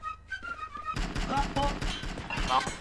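War game gunfire breaking out after a quiet opening, rapid irregular shots and thuds crowding together, fairly loud and close, with a whistle-like tone mixed in.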